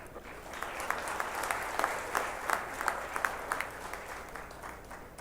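Applause from an audience at a Bihar Vimarsh and Atal Mithila Samman event, a fairly faint, steady patter of many hands with a few sharper claps standing out, no talking.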